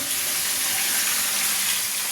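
Fresh rohu fish frying in oil in a wok, giving a steady, dense sizzle that fills the whole clip at close range, with no voices.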